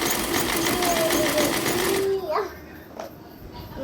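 A domestic sewing machine stitching fabric for a salwar zipper runs steadily and close for about two seconds, then stops, leaving quieter handling noise.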